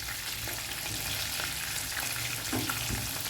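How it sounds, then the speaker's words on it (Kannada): Prawns deep-frying in hot oil over a medium flame give a steady, dense sizzle with small crackles and pops throughout, close and continuous, with no talking. "ಮೀಡಿಯಮ್ ಫ್ಲೇಮಲ್ಲಿ ಮಾತ್ರ ಫ್ರೈ ಮಾಡಿ."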